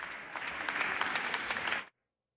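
Dense applause from an audience at a fashion show as models walk the runway, steady and fairly loud throughout before cutting off abruptly near the end.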